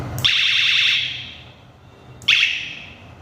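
Two bursts of a warbling electronic siren tone from a bicycle light in siren mode, a short wailing sweep followed by a pause and a second onset, loud and close.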